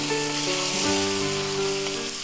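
Water poured into a hot pan of partly cooked potatoes for a duck egg and potato dish sets off a loud, steady sizzle that fills the whole moment.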